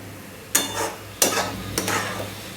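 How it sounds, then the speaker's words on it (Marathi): Spices, tomato and onion fry over high heat for chicken chutney, three bursts of loud sizzling as the mixture is stirred and turned, each fading into a lighter hiss. "मसाले आणि टॅमॅटो कांदा 1 मिनिटभर फ्राय करून घ्यायचा आहे"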